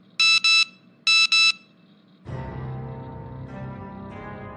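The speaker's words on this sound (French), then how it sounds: "ton téléphone sonne." A mobile phone ringing in a French animated drama sounds as two pairs of loud, shrill electronic beeps, followed by a steadier droning tone that continues to the end.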